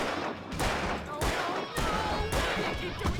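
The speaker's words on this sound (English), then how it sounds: "This isn't a sniper rifle. It's a friggin' revolver." Revolver fire in the Alan Wake video game: several sharp shots in quick succession, fairly loud and close.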